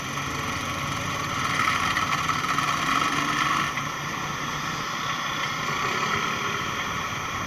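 A motorcycle engine idles steadily at a roadside police checkpoint, a continuous low rumble holding at an even level throughout with no talk over it.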